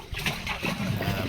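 Water gushing and splashing from a freshly drilled water well, a steady rough wash with soft gurgling surges, close by and fairly quiet.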